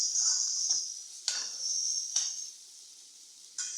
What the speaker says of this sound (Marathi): चण्याची डाळ टाकल्यावर थोडं एकदा आपण परतून घेऊया।